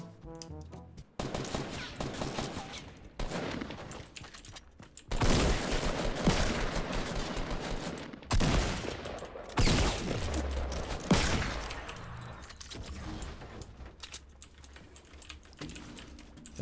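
Pistol gunfire in a video game: several sharp broadband shots in short bursts, loud and close, with a steady tapping of keyboard keys running underneath the whole time.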